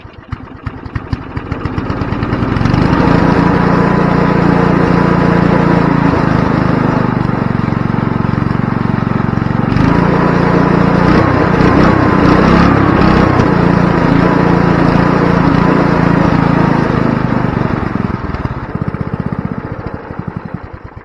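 A cheap snowblower engine, cold-started with the choke on, roars steadily at full throttle for most of the stretch, loud and close, with a brief dip midway before tapering slightly at the end.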